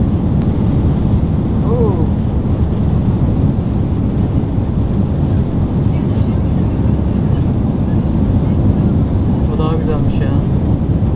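Passenger airliner taking off and lifting its wheels from the runway, heard from inside the cabin as a loud, steady broadband roar that continues throughout, with a brief voice near the end.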